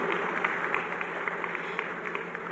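An audience claps at a symbolic ground-breaking ceremony at PTC Industries in Lucknow, producing dense, continuous applause at moderate distance.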